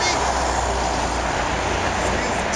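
Steady road traffic rushes past nearby as a continuous broadband roar with a low rumble underneath, holding at a constant level throughout.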